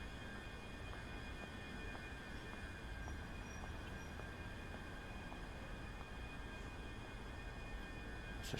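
Steady rolling rumble of a train running on rails between Glasgow and Edinburgh, continuous and fairly loud, with a faint high whine over the top and no speech.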